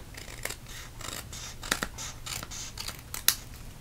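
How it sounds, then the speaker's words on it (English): Scissors trimming paper for a handmade card, snipping in short, scattered cuts, a few sharper snips standing out over a low background hum, with no talking. "if it's enough that you can get a scissors in, you can go ahead and trim that off"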